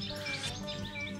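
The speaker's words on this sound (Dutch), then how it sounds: "Ik hoor vogels." Birds chirping in the early morning at a national park wetland, several short tweets and whistles over a soft outdoor background, moderately distant.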